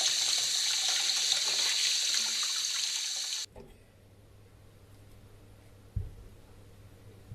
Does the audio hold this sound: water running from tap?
yes